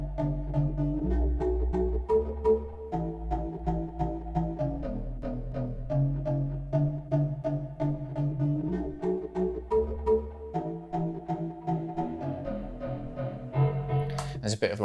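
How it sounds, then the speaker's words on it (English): A solo pitched-up synth bass with portamento glides and ping-pong delay plays a steady, busy pattern of sliding notes with echoing repeats, loud and continuous without any talk. "This is just the bass."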